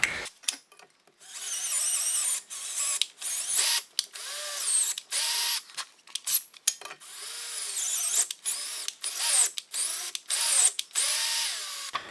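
Power drill bores a brake-related hole deeper on a BMW E39 winter car before a new thread is cut, whirring in repeated short bursts with brief pauses between, close and fairly loud, with no talking.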